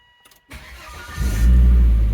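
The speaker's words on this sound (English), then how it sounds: "Actually, let's just start the car." Volvo V70 car engine cranking and catching, quiet at first, then the starter turns over and the engine fires into a loud, steady low rumble close by inside the car.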